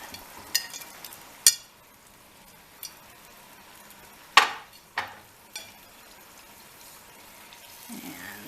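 Seasonings being stirred in a cooking pan: a few sharp spoon-against-pan clinks and scrapes at irregular intervals, close by, over a faint low sizzle.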